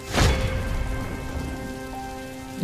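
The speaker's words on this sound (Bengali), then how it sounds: "ঝড়ে যে সব ভেঙে পড়ছে" Heavy rain pours steadily in a cartoon storm, a dense close wash of drops with a louder burst at the start and no voices.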